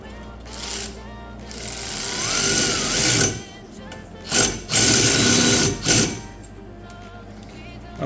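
An impact driver with a tiny bit drills a hole in a metal bracket, delivering several loud rapid hammering bursts separated by pauses, close by, with a person talking in between.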